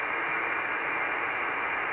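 A longwave radio receiver tuned low in the band hisses with steady, dense static, an even wash of noise with no clear tones or voices, close and constant throughout.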